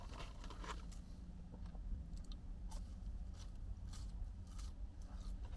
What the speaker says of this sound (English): There's a nice crunch to them.